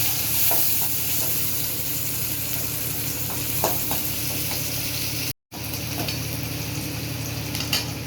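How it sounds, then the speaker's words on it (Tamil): Mustard seeds, cumin and small shallots frying in hot oil, giving a continuous close sizzle with scattered pops and stirring clinks and one brief dropout in the middle, no talking. "கடுகு சீரகம் பொரிஞ்சிச்சு வெங்காயம் சின்ன வெங்காயம்"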